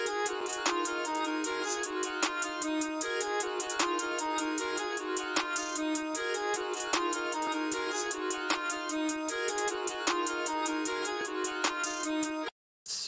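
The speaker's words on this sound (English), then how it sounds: "Then I put a closed hi-hat pattern in," Programmed trap beat in FL Studio with a rapid closed hi-hat pattern ticking over snare hits and a melody, steady and busy before a brief dropout at the end.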